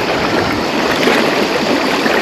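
The Psezuapse river in July flows strong and wide, giving a steady, loud, broadband rush of running water that stays close and unbroken throughout.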